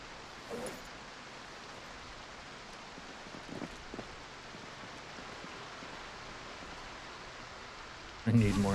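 Rain falls steadily in the video game Project Zomboid as a soft, even hiss with a few faint taps, and a louder burst of sound cuts in at the very end.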